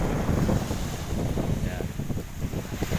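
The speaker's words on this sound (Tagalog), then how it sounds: "Medyo malakas na yung hangin kasi." Strong sea wind buffets the microphone aboard a small fishing boat off Atimonan, Quezon, a loud rumbling gusty roar with faint water and hull noise beneath it.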